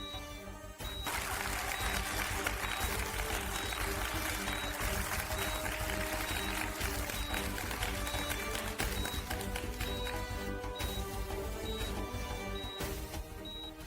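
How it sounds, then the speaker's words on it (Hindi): Loud, sustained applause for students after a stage dance performance, a dense continuous wash of clapping that starts abruptly and holds steady for over ten seconds with music faintly underneath. "हमारे सभी प्रतिभाशाली शिष्यों के लिए जोरदार तालियां।"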